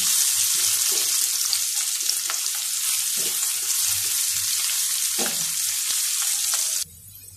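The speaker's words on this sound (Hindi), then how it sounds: "इसको हम सॉफ्ट होने तक फ्राई कर लेंगे" Capsicum and carrot fry in a pan until soft, giving a close, steady sizzle broken by occasional stirring scrapes, then cutting to quieter background near the end.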